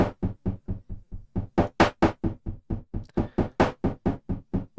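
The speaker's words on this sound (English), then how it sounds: "I've created a white noise gated effect" Rhythmic bursts of gated white noise pulse steadily, swelling brighter in the middle before settling back, with no voices.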